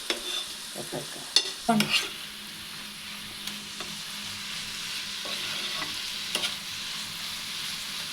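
A jaggery and coconut mixture for poovada sizzles softly in a pan, with scraping stirs and a few clinks near the start, then a gentle steady fry.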